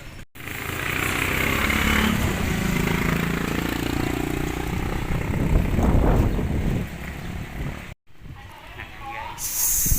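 Motorcycle engines rumble and rev nearby, a steady idling drone with rising and falling revs, broken by brief cuts.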